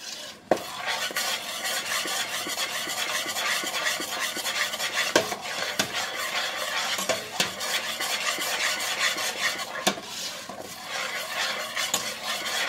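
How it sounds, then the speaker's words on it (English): A peanut butter and chocolate mixture stirred constantly in a pot, a spoon scraping rhythmically against the metal with soft clicks and light sizzling, close and steady for the whole stretch, no talking. "You must stir this constantly"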